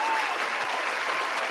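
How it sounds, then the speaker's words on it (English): A burst of crowd applause, dense steady clapping from many hands, sustained at even loudness for a moment. "Give me a round of applause and give Miss Cynthia a round of applause."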